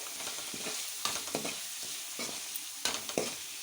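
A prawn mixture with turmeric being stirred in a pan, a steady sizzle with repeated close spoon scrapes coming in quick clusters and no talk.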